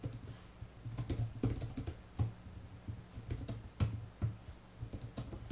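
Quiet, irregular tapping of keys on a Bluetooth keyboard used with a laptop, bursts of soft clicks with short pauses, close by and low in level.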